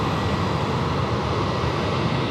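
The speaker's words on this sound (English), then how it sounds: "Sichuan Airlines just landed" Sichuan Airlines Airbus A330-300 airliner landing on runway 34 left at Sydney Airport, a steady broadband roar of jet engines that stays loud and even throughout, with no voices.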